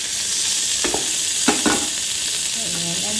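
Spices, onion, green chilli and curry leaves sautéing in oil for a chicken stew, a steady soft sizzle with a few sharp scrapes and stirring knocks, then faint clinks near the end.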